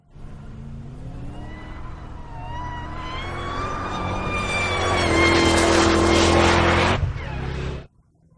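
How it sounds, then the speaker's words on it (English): A Shelby GT500 Super Snake muscle car engine roars as it revs, pitch rising steadily and growing louder over several seconds before abruptly cutting off. "There's nothing more visceral than the noise this car makes"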